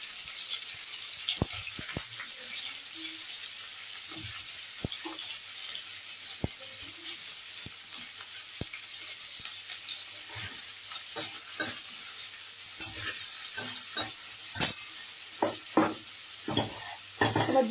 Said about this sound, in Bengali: পনিরটা ভাজতে শুরু করলাম।